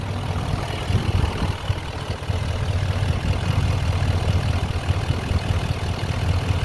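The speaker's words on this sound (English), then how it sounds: "That diesel engine is just sounding fantastic" A 2018 Chevrolet Silverado 2500 HD LTZ 4x4 with a Duramax diesel engine idles close by, a steady low rumble with an even, chugging pulse throughout and no talk.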